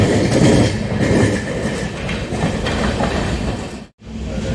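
A moving passenger train rumbles and clatters steadily up close, a continuous low roar with rattling wheels, briefly cutting out near the end.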